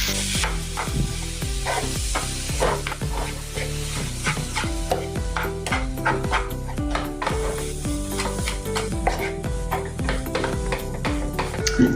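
Coconut laddu mixture with milk is stirred in a pan with a rhythmic series of scraping strokes over a soft sizzle, each stroke repeating at a steady, fairly quick pace, close up.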